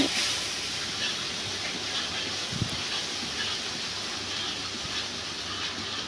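Onion frying with green chilli, ginger and garlic paste in a pan, a steady hiss of sizzling with one brief stir knock, fairly close and continuous, no talking.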